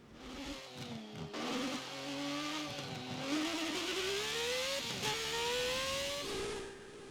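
A Formula One car engine from the racing video game GP2 revs and drops through a chicane, its synthetic tone rising and falling in pitch as it brakes and accelerates, steady and fairly close with no talk.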